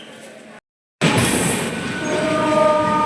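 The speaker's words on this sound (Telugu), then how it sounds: "తుని రైల్వే స్టేషన్ మన ట్రైన్ అయితే బయలుదేరిపోయిందని" The Tirumala Express pulls out of Tuni railway station, heard from on board: after a brief dropout, a loud, continuous rumble of wheels and carriages swells steadily, with faint high squeal tones.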